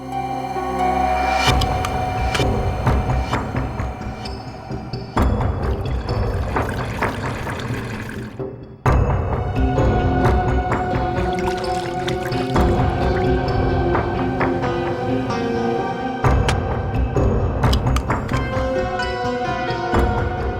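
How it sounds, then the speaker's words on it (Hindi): Water pours into a plastic drinking bottle that has a hole in it. A continuous splashing, gurgling fill is broken by brief pauses and a short gap midway, with no talking. "तो जरा इसमें पानी भर।"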